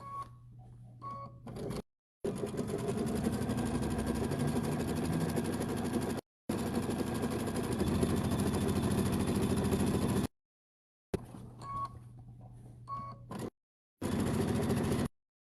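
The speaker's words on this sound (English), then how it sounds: "So we're just going to keep sewing around this circle line." A sewing machine stitches around a circular line on a quilted placemat, its steady motor hum running in several sustained bursts of a few seconds each, separated by short silent pauses.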